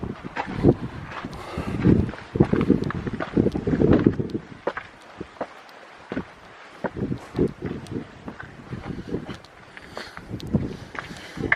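Strong wind on a steep hilltop after a long hike, gusting and buffeting hard against the microphone in uneven roaring bursts, with some rustling and shuffling up close.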